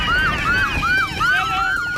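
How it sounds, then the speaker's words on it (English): A loud police siren wails in rapid, repeating rising-and-falling sweeps, close by and dominating over faint road noise. "You can hear the sirens in the background"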